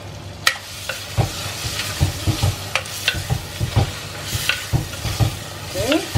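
Vegetables for a spicy South Indian kara kulambu sauté in a pan under a soft sizzle, punctuated by repeated clacks and scrapes of a spoon stirring against the metal.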